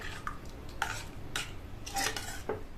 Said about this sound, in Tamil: இப்ப தண்ணி சேர்த்துட்டு நல்லா ஒரு தடவை மிக்ஸ் பண்ணி விட்டுறலாம்